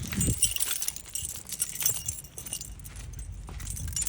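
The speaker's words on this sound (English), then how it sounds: "Get the keys." Metal keys jangle and clink repeatedly close by, a bright rattling shake with no voices.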